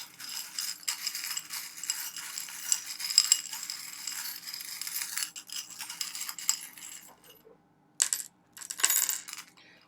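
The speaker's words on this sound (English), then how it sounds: "it is a little bit noisy when I shuffle my charm collection" Small metal charms clink and rattle as they are shuffled together nearby, jingling continuously before a brief pause and a couple of final bursts.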